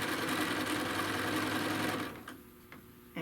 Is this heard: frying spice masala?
no